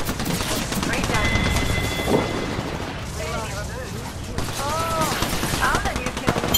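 Rapid gunfire from an Apex Legends match, continuous loud bursts of shots with game sound effects and voices talking over the action.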